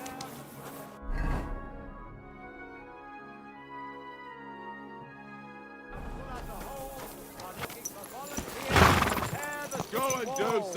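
Horse in the medieval game Kingdom Come: Deliverance II gives a loud whinny early on and another near the end, with clip-clopping hooves, while characters talk over much of it.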